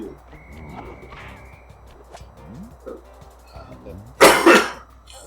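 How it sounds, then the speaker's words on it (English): A person coughs during a play session of the Sly Cooper video game: a loud, close burst of two or three harsh coughs near the end, after quieter game sounds. "I'm gonna have to apologize for any coughing"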